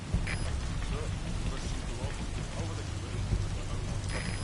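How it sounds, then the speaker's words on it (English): Steady rainfall from the stealth video game Metal Gear Solid V, a dense continuous hiss of falling rain with a low rumble underneath, even and unbroken throughout. "Sound of rainfall should help to mask your footsteps."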